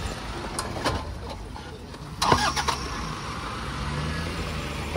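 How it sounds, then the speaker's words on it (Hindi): A Toyota Fortuner SUV drives down into a river while off-roading, its engine a steady rumble that swells briefly midway, with splashing and a broadband wash of water and outdoor noise around it. Voices are heard faintly. "ये सबसे आगे फॉर्चूनर उतर रही है"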